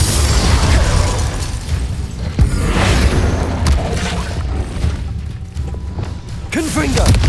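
Explosive spells such as Bombarda go off in the Hogwarts Legacy video game, producing loud, repeated booms and crashing bursts over a busy rumbling backdrop, with voices mixed in.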